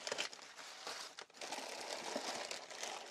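Sheet of paper packing from a boxed GoXLR audio mixer crumpled by hand, with a close, continuous crinkling rustle for about three seconds and a brief pause partway through.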